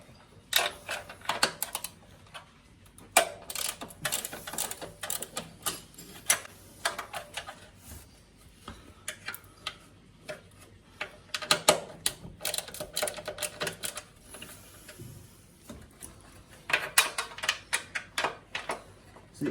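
Screws being loosened on the back panel of a Hoover Computer Control 1100 A3308 washing machine: a run of close, irregular clicks and ratcheting taps from a screwdriver, in bursts with short pauses and no talking.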